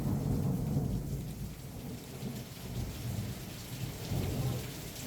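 A heavy thunderstorm at night in Portugal, with dense, steady rain pouring down and deep thunder rumbling continuously underneath, loud and close with no voices.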